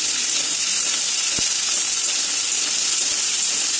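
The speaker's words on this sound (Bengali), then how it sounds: "পেঁয়াজটা ভাজা হয়ে গেছে, দিয়ে দিচ্ছি রসুন পেস্ট, আদা আর কাঁচা লঙ্কা পেস্ট দিয়ে একটু নেড়ে নিচ্ছি।" Garlic paste, ginger and green chilli paste fry with onion in a pan, a loud steady hissing sizzle with a couple of faint stirring knocks, no voices.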